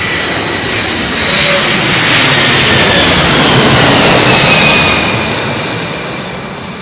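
An airliner passes low overhead on arrival to Heathrow runway 27L, a loud, broad jet roar that swells to a peak mid-pass and slowly fades as it moves away.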